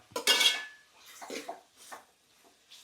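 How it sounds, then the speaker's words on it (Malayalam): Beef is stirred in a pan with a metal utensil, giving a few sharp clanks and scrapes against the pan separated by short quiet gaps. "എണ്ണ തെറിച്ച് വീഴുന്നു അത് എൻ്റെ ഇളക്കിൻ്റെ ഗുണം കൊണ്ടാണ് എണ്ണ തെറിച്ച് വീഴുന്നത്"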